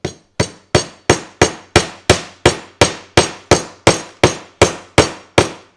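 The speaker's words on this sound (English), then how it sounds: "let's hammer in the roofing nail again" Fifteen sharp, evenly spaced hammer strikes driving in a roofing nail ring out close by, each a crisp metallic knock that fades quickly before the next.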